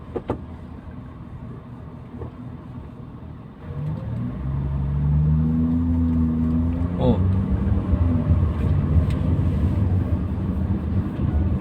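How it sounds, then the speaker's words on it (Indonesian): A car with four exhaust pipes rumbles and builds into a louder, rising engine drone as it accelerates nearby, with a person talking over it. "Ini mobil lubang knalpotnya sampai 4 lah. Kayak apa larinya ya?"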